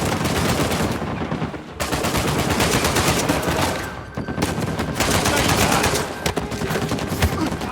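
Rapid, sustained automatic turret gunfire from the Uncharted 4 video game, loud and dense bursts with two brief gaps, close and dominant throughout.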